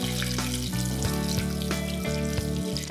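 Paneer pakoras frying in hot oil give a steady, dense sizzle that runs unbroken throughout, close and fairly loud, with no voices.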